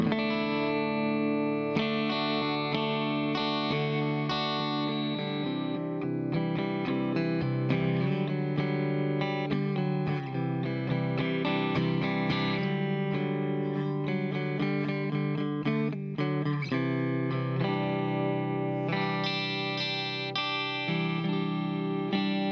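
Bass line played on a Gretsch 5410T electric guitar through the middle pickup position with no reverb, an overdriven, effect-coloured tone running steadily and fairly loud for the whole stretch, no talk.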